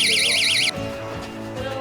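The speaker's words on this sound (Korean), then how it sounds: "도둑이 침입했던 창문에 창문 열림 경보기를 설치한다." A window-open intrusion alarm gives a loud, warbling electronic siren that rises and falls rapidly for under a second, then cuts off abruptly, leaving a room tone with faint hum behind it.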